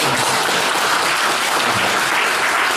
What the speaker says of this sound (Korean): 우리끼리니까 박수 한번 칠까요?